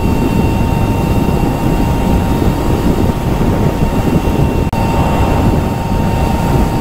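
An Ultraviolette F77 Mach 2.0 Recon electric motorcycle at full throttle, heard as a loud, steady rushing roar of wind and a faint motor whine, continuous throughout with one brief dip.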